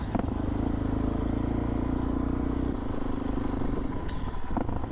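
A Suzuki DR-Z400 SM motorcycle engine drones steadily and loudly throughout while riding, with a shift in tone near the end as the ride continues; no one speaks.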